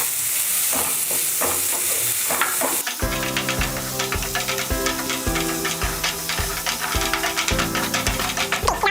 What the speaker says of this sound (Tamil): ஸோ நறுக்கி வச்சுருக்க வெங்காயத்தை சேர்த்துக்கலாம்